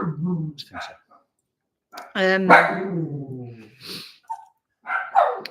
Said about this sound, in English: Sorry, dogs again.